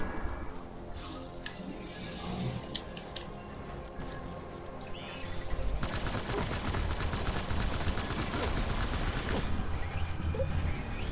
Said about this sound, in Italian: Ti sparo addosso tutta la barriera, Cliff.